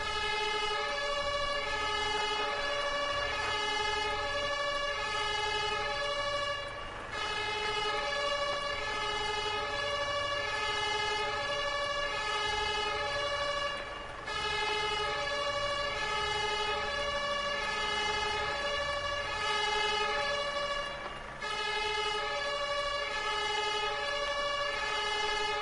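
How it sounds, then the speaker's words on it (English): Fire engine sirens in the Firefighters: The Simulation video game on PS4 Pro wail steadily and loudly for the whole stretch, a continuous electronic tone pattern with brief dips roughly every seven seconds and no talking. "We got the sirens!"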